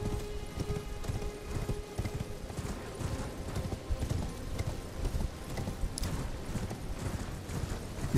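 Horse hooves clip-clop steadily in Elden Ring on PS4, with a faint whinny, set against a continuous game soundscape of wind and ambient noise.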